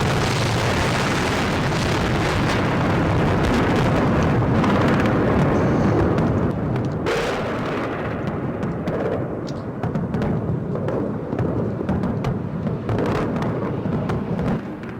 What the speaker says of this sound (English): Oh, another explosion.